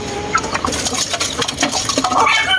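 Chickens being fed by a boy, a dense flock pecking and clucking nearby with scattered short calls and scratchy rustling throughout, no talking.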